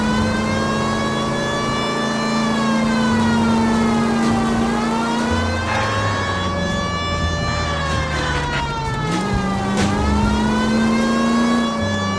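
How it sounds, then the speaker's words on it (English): A police car siren wails in the video game L.A. Noire, a steady rising and falling electronic tone over a continuous engine drone and road noise, loud and close throughout. "We have a siren."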